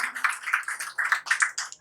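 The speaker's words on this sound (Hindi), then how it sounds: "एक बार अपने लिए तालियां बजा दीजिए।" A live audience at an open mic poetry event in Delhi claps together, a short burst of dense, fairly close applause that rises and falls in quick waves.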